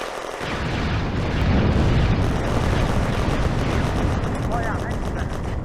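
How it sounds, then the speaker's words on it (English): Artillery rounds exploding in the video game Firefight: a continuous loud, dense roar of blasts and crackling impacts that swells midway, then stays steady. "The artillery rounds fall short."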